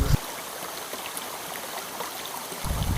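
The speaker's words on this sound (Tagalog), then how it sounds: "Hinanap niya si Lamok hanggang siya ay nahulog sa ilog." River water flows in a constant broadband rush, a little louder at the very start and end, with no voices.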